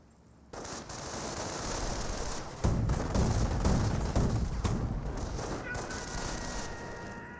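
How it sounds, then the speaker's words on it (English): Small arms fire from the WWII strategy game Company of Heroes rattles almost continuously, a dense spread of rifle and machine-gun shots that grows heavier partway through, with voices faintly underneath. "This one could be pursued by the small arms fire"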